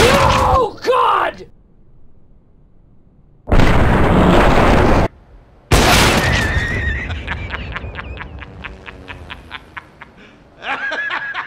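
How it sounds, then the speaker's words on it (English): A flashbang grenade goes off in the video game CS:GO: a sharp, loud burst, then a second blast that trails into a piercing high ringing tone, which fades in pulses. Brief vocal sounds come before it. "Throwing a flashbang."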